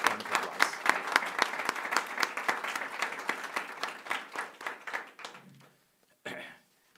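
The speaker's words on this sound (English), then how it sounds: "could you all join me in giving them all a big round of applause" An audience at a ribbon cutting ceremony for a university career and innovation center gives a round of applause, dense rapid clapping for about five seconds that tapers off into quiet, then a brief faint stir.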